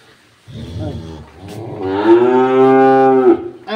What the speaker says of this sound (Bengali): এই গাভীটা বাচ্চা দিছে।